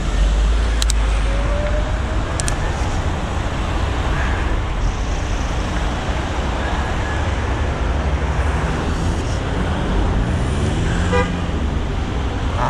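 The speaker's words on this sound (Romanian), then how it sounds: "Deci nu s-a făcut verde bine și deja au început să claxoneze băieții." Car horns honk in busy road traffic at an intersection as the light turns green, several short toots standing out against a steady loud roar of engines and passing vehicles.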